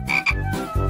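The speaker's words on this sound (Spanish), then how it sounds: "¿Qué hago yo con esta rana?" Frog croaking, a few loud, close, raspy calls in quick succession with no other sound.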